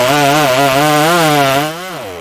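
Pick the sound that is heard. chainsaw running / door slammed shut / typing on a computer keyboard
chainsaw running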